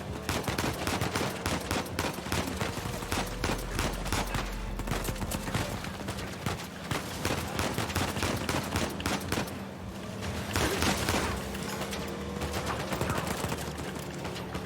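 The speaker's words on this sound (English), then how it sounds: "I don't know what my handgun is packing, what kind of bullets, but it's very good at its job." Rapid handgun fire in the video game Uncharted 4, with dense overlapping shots and bursts over a loud, busy action scene with a constant low rumble, steady throughout.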